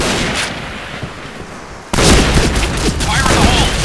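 Shotgun gunfire in the online shooter Project Blackout, loud booming blasts that jump sharply halfway through into a dense run of repeated shots amid game effects.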